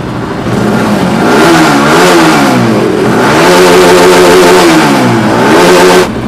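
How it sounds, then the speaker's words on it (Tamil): A motorcycle engine with a faulty oxygen sensor revs up and down several times, the pitch rising and falling in repeated swells, loud and close. "இப்போ நம்ம பைக்கை நல்லா ஒரு 4 தடவை ரைஸ் பண்ணிவிட்டு விட்டு பார்ப்போம்"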